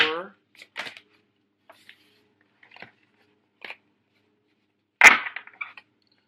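Tarot cards shuffled during a love reading: scattered soft riffles and taps spread across the moment, with one sharper burst of cards near the end. A voice is heard briefly at the start.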